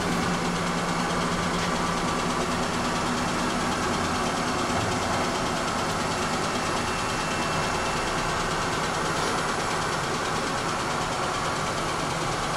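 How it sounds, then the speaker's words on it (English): A Hurco Hawk 30 SSM three-axis CNC bed mill from 2000 runs with its spindle on and axes traversing, giving a steady, loud, dense mechanical hum and whir with no pauses. "Put the spindle and move all the axes to their extremes."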